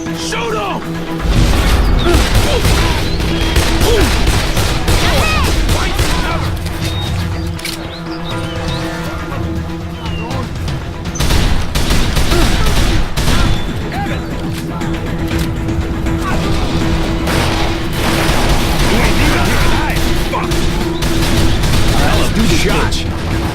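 Gunfire in the video game Call of Juarez: The Cartel, dense and continuous through the scene with sharp crashing bursts, heard under shouted voices and game music.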